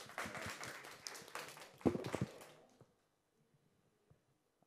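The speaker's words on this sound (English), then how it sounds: "Round of applause for the professor, please." Audience applause after a professor's talk at a forum, a burst of clapping from a crowd that thins out and fades to near silence, quiet and somewhat distant.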